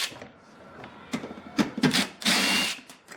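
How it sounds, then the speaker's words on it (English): A power tool backs out 10mm bolts holding the rear diffuser on a pre-facelift Mercedes-Benz W204, heard as short close whirring bursts with a longer run near the end, separated by quiet pauses. "now to remove the 2 10mm bolts"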